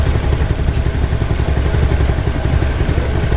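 A Suzuki Spin motorcycle engine runs roughly with a loud, uneven clattering chug, sputtering and stalling when throttled, with a weak battery, close up, with no voices.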